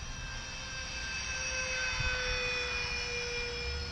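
A remote-controlled model Airbus A320 jet flies at about 60% throttle, its steady whining turbine drone holding level and continuous with distinct high tones throughout.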